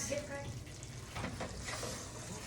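Chicken pieces for chicken piccata frying in a pan over medium-high heat, giving a steady, dense sizzle that runs through the whole moment at close range.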